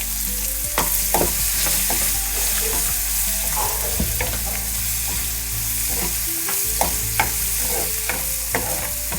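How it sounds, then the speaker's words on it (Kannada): Onions fry for bambino upma, a vermicelli breakfast dish, with a steady sizzle in a pan and repeated scraping taps of a spoon stirring through it. "ಇದೆಲ್ಲ ಚೆನ್ನಾಗಿ ಫ್ರೈ ಆಗಲಿ. ಇವಾಗ ಈರುಳ್ಳಿ ಹಾಕೋಣ."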